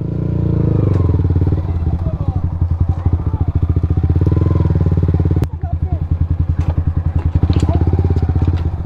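A motorcycle engine idles close by after a ride to a waterfall trailhead in Laguna, a fast, even, rattling putter that briefly drops out and then resumes.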